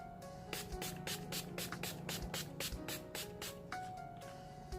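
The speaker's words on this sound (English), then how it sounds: "So let's add some setting spray." Quick, hissy bursts of a makeup setting spray bottle firing repeatedly in a steady rhythm, close up, with a faint hum underneath.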